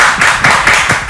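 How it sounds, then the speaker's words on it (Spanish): A studio audience on a Spanish-language TV show applauds in a short, loud burst of close clapping with a quick irregular rhythm, lasting about a second. "Oye, un aplauso para Daisy."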